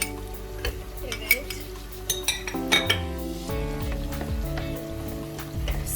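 Stirring tomato paste in a pot while cooking a traditional olive-oil stuffed grape leaf dish: repeated scraping and clinking of a utensil against the pot, close and moderately loud, with occasional sharper knocks.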